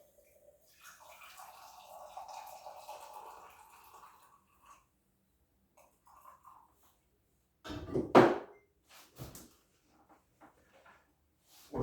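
Coffee pours from a Primula stovetop coffee maker, a brief splashing gush of liquid after quieter handling and clinking sounds, close and fairly soft.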